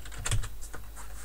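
Several quick keystrokes on a computer keyboard click close up in a short burst, followed by a few sparser taps, with no talking.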